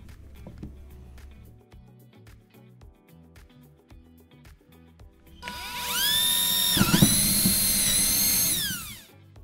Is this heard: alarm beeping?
no